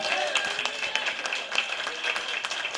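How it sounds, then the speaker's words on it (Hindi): A church congregation claps for Jesus Christ, a lively run of uneven hand claps with sharp individual hits over a bright, ringing musical background. "यीशु मसीह के लिए जोरदार तालियां।"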